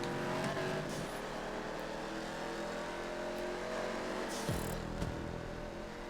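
A race car in GTA 5 howls around the Blaine County 24 Hours track with a steady engine drone, shifting pitch as it accelerates and brakes, with a brief tire squeal near the end.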